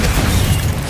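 A loud, dense, roaring burst from the Confringo explosion spell in Hogwarts Legacy, filling the short moment with a heavy boom.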